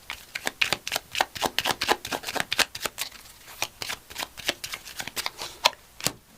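Tarot cards being shuffled close up in an ASMR setting give quick, crisp riffling flutters in a dense irregular run, fairly soft, with no talking.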